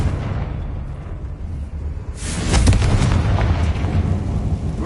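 A Confringo blasting spell going off inside an abandoned mine in Hogwarts Legacy, heard as a loud booming burst that swells and rumbles on in a long, low tail after a brief quieter lead-in.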